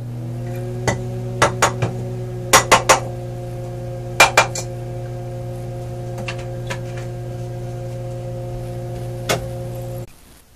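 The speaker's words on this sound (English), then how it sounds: "Stick it in the microwave for about 15-20 seconds roughly." A microwave oven heats a wet towel with a steady low electrical hum throughout, while scattered light clinks of dishes or utensils sound on top, until the hum cuts off at the end.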